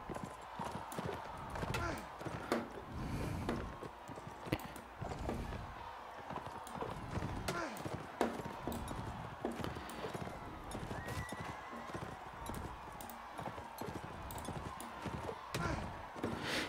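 Horse hooves clip-clopping in the medieval battle game Mount & Blade Warband, steady irregular hoofbeats with occasional whinnies and clashing, under someone talking.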